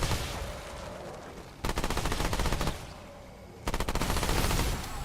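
Rapid SMG fire in Remnant 2 comes in two loud, fast bursts of rattling shots, each lasting about a second, with a rumbling ambient background between them.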